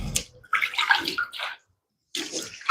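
Dirty water splashing and trickling into a bucket to mix drywall mud during bathroom work, two bursts of pouring with a short silent gap between them.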